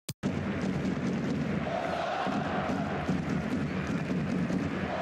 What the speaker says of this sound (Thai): มันจะประมาณว่าเสียงร้องเชียร์ของคนเข้ามาดูครับเสียงร้องเชียร์ของแฟนบอล